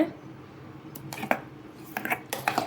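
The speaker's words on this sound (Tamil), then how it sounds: "இப்படியே கொஞ்சம் கொஞ்சமாக பால் சேர்த்து நல்லா மிக்ஸ் பண்ணிக்கிங்க" Milk being stirred into a mango kulfi mixture in a bowl, a faint spoon scraping and clinking against the bowl in short bursts with a quiet wet swish between strokes.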